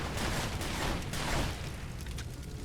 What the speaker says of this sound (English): Where are they? I can hear their gunfire.